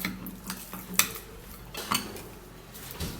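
A spoon clinks and scrapes inside a container while an onion mixture is stirred into cucumber juice, giving a few quick close clatters and a sharper knock, with no talking.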